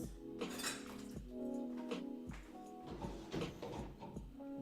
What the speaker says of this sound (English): I think I just need to wash a sheet pan and probably the frying pan so I can cook the cod.